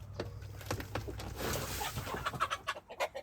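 Chickens scratching in biochar give short, close clucks that come thicker and louder toward the end, over faint shuffling and rustling with no talking.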